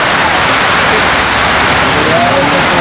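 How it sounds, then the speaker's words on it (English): Heavy rain pouring down in Mandeville, a loud, steady broadband hiss that fills the whole stretch without pause, close and dense, with faint voices barely showing beneath the downpour. "The rain coming down heavy."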